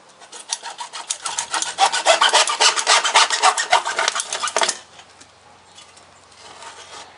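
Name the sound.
hacksaw cutting thin-walled PVC pipe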